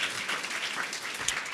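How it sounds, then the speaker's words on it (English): An audience applauds after an onstage talk, a steady, fairly soft wash of clapping filling the whole short moment with no voices over it. "I want to give her a big round of applause"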